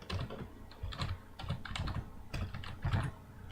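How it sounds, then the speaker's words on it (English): Steady typing on a computer keyboard, keys clattering in quick uneven bursts with brief pauses, close and fairly quiet, no talking. "Now what you're gonna do is type in your router name."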